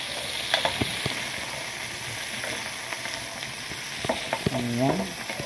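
Onions sautéing in a pan while cooking pinakbet, a soft steady sizzle with occasional stirring clicks and a brief squeaky scrape toward the end.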